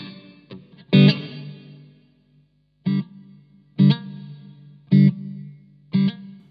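Electric guitar played through a Blackstar Silverline valve-modelling amp with a subtle reverb setting: a few separate strummed chords ring out with a distorted, effected tone, each decaying into a short reverb tail, with no talking.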